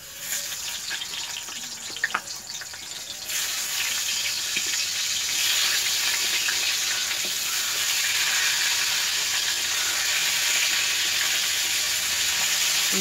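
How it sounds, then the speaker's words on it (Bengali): Salted, turmeric-coated pointed gourd fries in an iron wok over a wood fire, a close, steady sizzle that swells louder partway through and then holds, with a few faint clinks early on. "হয়ে গেল পটল ভাজা।"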